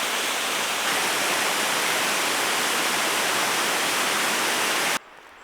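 Stream water rushing near a waterfall along a hiking trail, a loud, steady broadband roar that holds for about five seconds and then cuts off sharply to near quiet.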